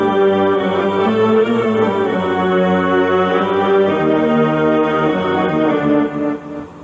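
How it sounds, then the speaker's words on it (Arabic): A keyboard strings patch plays rich, layered sustained chords, full and close, holding steadily before fading near the end, with no voices, from a keyboard set prepared for performing music from the film The Message. "وهذا ثاني صوت، صوت سترنج،"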